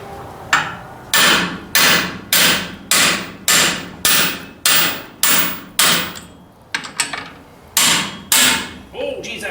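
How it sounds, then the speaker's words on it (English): A 1.25 inch socket on a 1944 Ford 2N tractor takes a run of loud, close hammer blows, about a dozen sharp metallic strikes in steady rhythm with a brief pause before the last few. "So let's give her some hammering"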